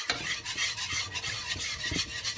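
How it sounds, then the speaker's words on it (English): A spoon stirring thick macaroni and cheese in a pot, with soft repeated scraping and squelching strokes at close range and no voices. "Stir that up as well."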